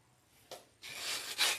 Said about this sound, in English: Get your little sanding block and just sand them a little bit before you paint them